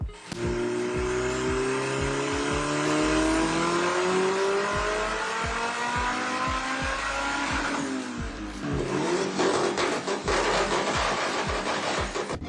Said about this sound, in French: sous le capot, il y a un moteur V18 préparé avec un gros turbo qui sonne un peu comme ça